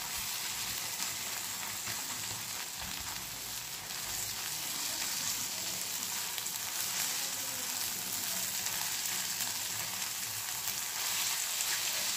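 An egg fries in a pan, making a steady, even hiss of hot oil that stays constant and fairly quiet, heard close with no voices.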